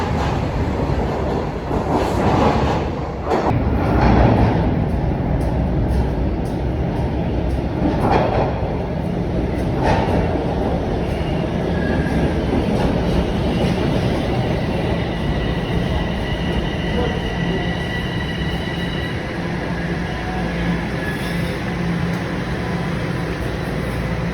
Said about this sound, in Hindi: ये वाली ट्रेन अब चली गई है, अब यहाँ पे एक अगली ट्रेन आएगी